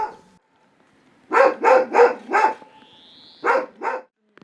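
An abandoned dog in a debris-strewn yard of a war-damaged house in Ukraine barks four times in quick succession, pauses, then barks twice more; loud and close, with a faint whine between.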